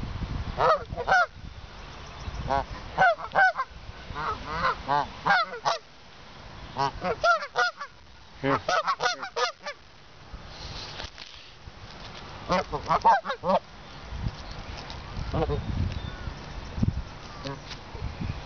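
A flock of geese honks repeatedly on a golf course, loud and close, in dense overlapping calls with a rustle of movement and people talking among them.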